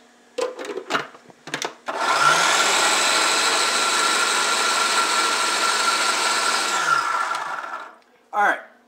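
A food processor blends cream cheese topping with a loud, steady whir for about six seconds, framed by a few clunks before and after.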